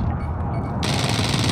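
Turret fire in Call of Duty: Modern Warfare, a dense, loud burst of rapid automatic shots that swells abruptly partway through and runs continuously to the end, with no talking over it.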